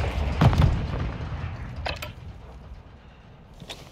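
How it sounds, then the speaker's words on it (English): A grenade blast in Call of Duty Modern Warfare 2 Team Deathmatch on Shoot House, a deep booming burst near the start that rolls off into rumbling debris, followed by fainter game sounds and a sharp click near the end. "Throwing grenade!"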